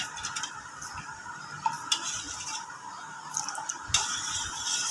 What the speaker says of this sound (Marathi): आता याला आपल्याला जरा हलवायचं.